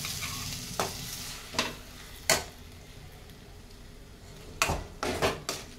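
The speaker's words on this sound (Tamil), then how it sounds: "அதையும் இப்போ என்ன செய்யணும்னா இப்படி லேசாக வதக்கணும்" Ground masala sautéing in a pan, a soft sizzle under repeated scraping and clinking stirs of a spoon against the pan, several distinct knocks spaced across the clip.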